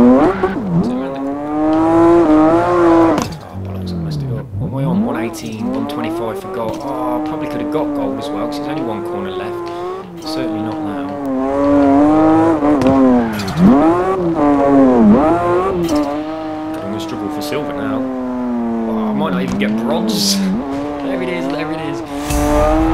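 Car drifting in CarX Drift Racing Online on Xbox One, engine revving up and down with sustained tire squeal over a long stretch, loud and continuous with rising and falling pitch.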